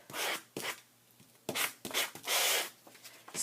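A sanding block rubbed by hand across a pocket layout piece, giving raspy back-and-forth strokes in irregular bursts with short pauses between them, close and fairly loud.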